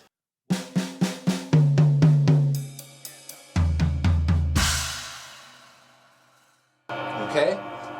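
A drum fill moves from the snare across the toms down to the floor tom in a quick run of evenly spaced hits. Each stroke sounds close and loud, then decays and rings out into silence before a voice speaks briefly.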